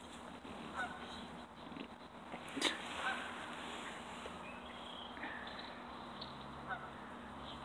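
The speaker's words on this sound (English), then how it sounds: "He's watching the geese and the ducks that are over there." Distant geese honking and ducks quacking outdoors, faint and scattered over a steady low background hum.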